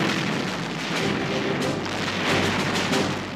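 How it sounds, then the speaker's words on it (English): Big guns erupt in a massive artillery barrage at the launch of the German invasion of Russia, a dense, loud, continuous roar of overlapping booms and blasts rumbling throughout. "the big guns erupt"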